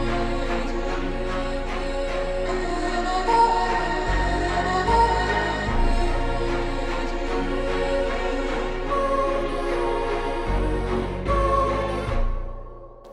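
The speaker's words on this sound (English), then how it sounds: "I have a dark piano, which is playing for the bass frequencies." Dark piano playing low bass octave notes within a dark orchestral arrangement, with sustained deep tones changing every couple of seconds under a denser layered texture, then fading out at the end.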